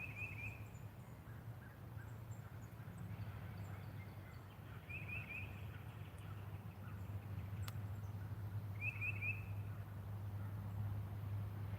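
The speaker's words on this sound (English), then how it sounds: "Can you guys hear the birds?" Brief bird calls repeat a few times in the woods, faint and distant over a steady low hum and background noise, with woodpeckers nearby.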